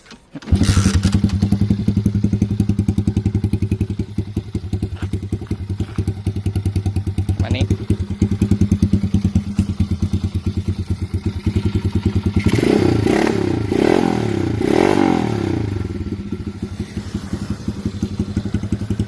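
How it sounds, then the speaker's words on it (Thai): A Diper dirt bike engine idles steadily and loudly with a constant low drone throughout, with a few louder revs and rattling clatter near the end. "ในคลิปนะครับเครื่องดีนะครับ ทีเดียวติดเลยนะครับ พร้อมใช้งานเลย"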